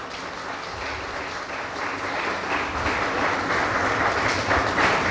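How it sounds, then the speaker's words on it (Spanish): An audience at a training session applauds, the clapping swelling gradually from a moderate patter into fuller, louder applause across about five seconds, with no speech over it. "Gracias, un aplauso."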